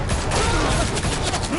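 Loud, continuous gunfire from the Batman Telltale video game, a dense rattle of shots mixed with mechanical clatter and shouting voices.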